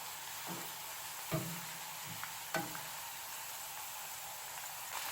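Garlic and scallions frying in oil left over from deep-frying, while chili oil is being made: a steady soft sizzle and hiss, with a few faint utensil clicks as the pan is stirred.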